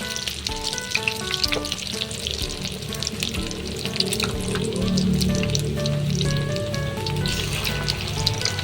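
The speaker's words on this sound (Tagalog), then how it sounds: "tayo magluluto naman ng ating fried chicken. Ayan na, sinalang na rin natin yan" Fried chicken cooks in a pan in a home village kitchen, giving a steady, loud sizzle and crackle throughout, with bubbling swelling midway and no talking.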